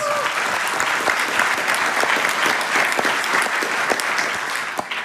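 Sustained audience applause at an innovation prize ceremony, many hands clapping steadily and loudly for the full length with no pause.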